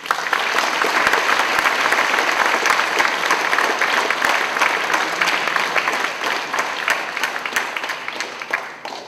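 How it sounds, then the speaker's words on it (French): A large audience at a project presentation breaks into sustained, dense applause, loud and steady for several seconds before tapering slightly at the end. "je vous demande de les applaudir bien fort"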